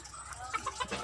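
Farm chickens cluck in short, soft bursts while pecking at papaya peel, a handful of close, quiet clucks and calls over a faint background.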